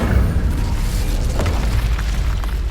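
An Incendio fire spell in Hogwarts Legacy bursts with a deep, loud booming roar that rumbles on steadily for a few seconds.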